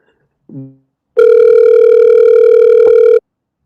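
A telephone on a call gives a short low tone, then after a brief pause a long, loud, steady ring-back or dial-type tone that holds for about two seconds and cuts off abruptly.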